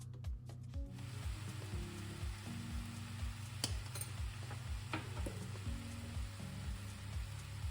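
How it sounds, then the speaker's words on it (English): Sliced leeks soften in a hot pan with a steady, gentle sizzle that runs without a break, alongside a soft regular ticking and no talking. "I'm going to pop my leeks in, and these are going to go in for about 4 to 5 minutes to soften in the pan"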